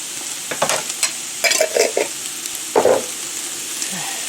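Vegetables frying in schmaltz in a pan, a soft steady sizzle broken by bursts of spatula scraping and stirring, close and fairly loud, with no talking.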